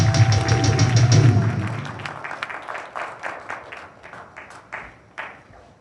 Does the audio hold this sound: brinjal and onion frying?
no